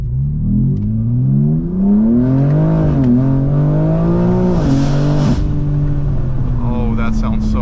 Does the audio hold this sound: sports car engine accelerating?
yes